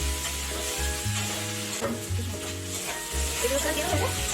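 Chopped tomatoes sizzle steadily in hot oil while being stirred, with background music playing throughout.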